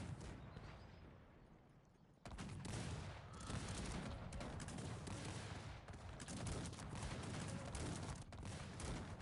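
Dense, continuous battle din of cannon and musket volleys from the strategy game Cossacks 3, with a quieter stretch before a sudden loud onset of overlapping booms and crackling gunfire that persists to the end.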